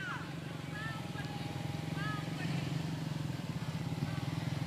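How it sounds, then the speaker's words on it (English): A four-wheeler rolls along in the Carlisle Christmas parade, its engine a steady, pulsing putter at moderate distance, with voices talking over it throughout. "And then we have a four-wheeler."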